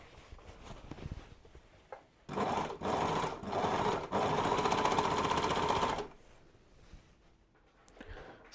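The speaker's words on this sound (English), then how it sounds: "And now let's overlock those seams." Overlocker sewing machine runs along denim jacket seams, a fast steady whirring hum lasting about four seconds with brief stutters, quieter handling before and after.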